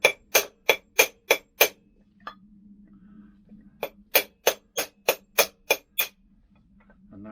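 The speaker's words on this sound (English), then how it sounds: "I'm driving with a socket extension that's knackered, basically an old one, and I'm going through the middle of the bearing" Sharp metallic hammer strikes driving a bearing out of a Lambretta scooter front hub through a worn socket extension, two close bursts of six and eight evenly spaced blows separated by a quiet gap.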